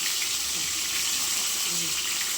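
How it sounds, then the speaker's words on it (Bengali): Bitter gourd frying in a pan for a vegetarian shukto, a steady bright hiss and sizzle throughout, close and unbroken, with faint low sounds underneath. "এই যে এখন আমি করলাটা ভেজে নিই।"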